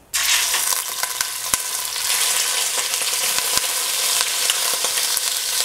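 Meat sizzling in hot oil in a saucepan for a cashew nut sauce, a steady dense frying hiss heard up close throughout, with a few sharp pops and utensil clicks and no talking.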